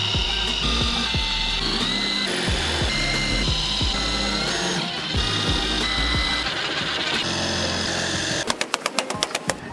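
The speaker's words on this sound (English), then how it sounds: "Then with a 9/64 drill bit, gonna make your holes. I realize this is an impact driver and not a drill." Impact driver drilling holes with a 9/64 drill bit into a metal truck tailgate while installing a HaulMaster tailgate ladder, a loud steady whirring grind, ending in a quick burst of sharp rhythmic impact hammering.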